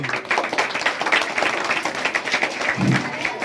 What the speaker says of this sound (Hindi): ताली ताली